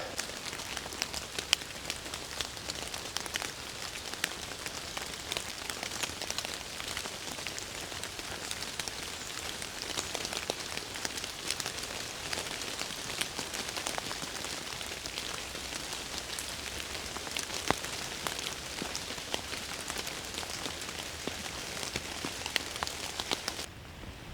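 Steady rain falls through a forest where porcini mushrooms grow along ditch banks, a dense even patter of drops on leaves and ground continuing unbroken and close, with no talking.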